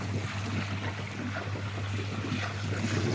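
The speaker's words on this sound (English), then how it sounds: "Now you can hear air in there." Air bubbling through a koi pond filter system, a faint steady trickle and gurgle over a constant low electrical hum.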